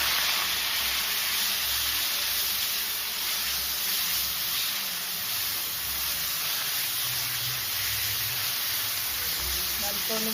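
Sliced onions sautéing in hot coconut oil in a pan for a Kerala shrimp dish, a steady, close sizzle with a constant hiss that holds throughout, with occasional faint stirring and a low background hum.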